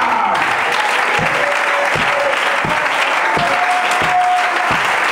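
An audience in Africa applauds continuously throughout, a dense steady wash of clapping hands from a large crowd with a few low thumps beneath it.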